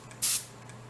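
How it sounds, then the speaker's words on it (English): A short, sharp hiss of finish sprayed onto a spinning piece of spalted ash on a lathe, one burst of about a fifth of a second over a faint steady hum. "I was gonna try to spray this while it was going around"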